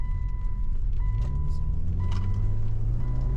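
A Subaru car with a repaired EJ25 engine revs past 4,000 rpm, a steady loud drone that climbs in pitch, heard from inside the car with a faint beeping tone.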